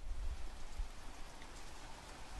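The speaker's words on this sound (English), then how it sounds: "Rain?" Steady, dense rain hiss fills the scene as a sound effect in an Undertale comic dub, an even continuous wash of falling drops with no voices.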